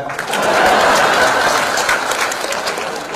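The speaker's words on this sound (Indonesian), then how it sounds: "Tepuk tangan buat ikan." An audience at a stand-up comedy show bursts into loud, dense clapping that holds steady for a few seconds before easing off slightly.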